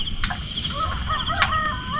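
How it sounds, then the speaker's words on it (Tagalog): A rooster crows at a distance, its tonal call rising over a steady chorus of crickets and insects in the background. "tilaok na manok"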